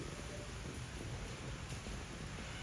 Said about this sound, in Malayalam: മഴ നല്ലുണ്ട്, മഴ മാറിയിട്ട് പോവാം